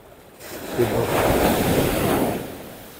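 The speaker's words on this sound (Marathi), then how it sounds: "हे बघा लाट बघा किती मोठी आहे" Big sea waves roll in and crash on the beach at Malvan on the Konkan coast, a loud swelling roar that builds, holds for a couple of seconds and then fades, with wind buffeting the microphone.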